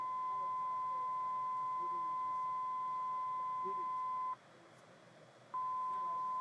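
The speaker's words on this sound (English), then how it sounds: "You can press either start single tones or continuous tones." A steady pure test tone from a VIAVI G1000 tester, held constant for about four seconds, cutting out briefly, then resuming, clear and alone over faint background noise.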